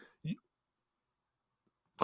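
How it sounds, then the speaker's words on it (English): A single short cough, close and fairly quiet, followed by silence and a faint breathy sound at the end. "sorry, I'm coughing a little bit."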